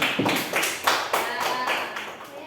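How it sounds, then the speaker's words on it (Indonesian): A student class claps for a presenting group during a school lesson, giving a few separate bursts of clapping over about two seconds, close and moderately loud, with a slightly ragged rhythm. "Tepuk tangan untuk kelompok 3."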